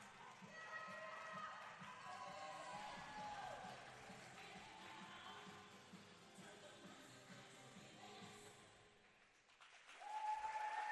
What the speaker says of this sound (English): Big round of applause as we wrap up our first event of the day here in the Open Trio Finals